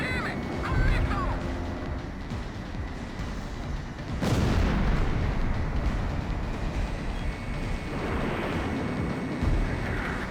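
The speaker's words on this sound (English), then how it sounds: "Damn it! A missile!" A missile explosion in the Ace Combat X flight game bursts sharply about midway, set against continuous jet and combat rumble that swells again near the end.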